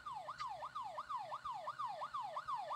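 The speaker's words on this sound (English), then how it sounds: "I hear cop sirens." Police sirens in the horror game Fears to Fathom wail in a rapid repeating up-and-down pattern, faint and distant with no talking.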